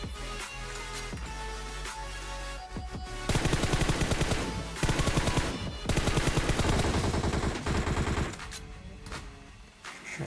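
Automatic weapon fire in a mobile shooter video game rattles out in long, loud, dense bursts separated by brief gaps. The fire comes through close and continuous with no talking over it.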